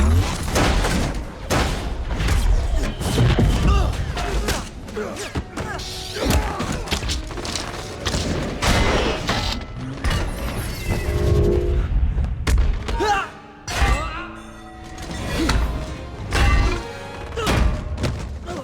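Gunfire rings out in a film battle scene where soldiers shoot indiscriminately in an Avengers and Ultron story. Dense, loud volleys of shots mix with heavy thuds and crashes throughout.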